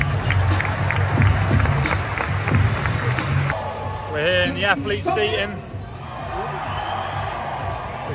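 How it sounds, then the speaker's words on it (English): Loud crowd noise in a swimming venue at the Commonwealth Games, a steady roar of cheering and clapping heard from athlete seating, with people talking close by over it throughout. "The crowd is really loud."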